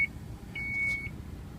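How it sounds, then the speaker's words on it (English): A 2014 Chrysler Town & Country Touring's power seat sounds its warning as it folds down: a faint electronic tone, a brief blip and then a longer steady beep, over a low background hum. "3 beeps means it's on the way down"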